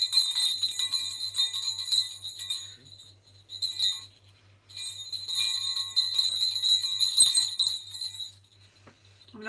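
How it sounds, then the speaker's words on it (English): Jingle bells shaken in bursts during a stamping and card-making session, bright metallic tinkling that rises and falls with a brief pause midway, close and fairly loud with no talk. "I can jingle in the bells while you're singing."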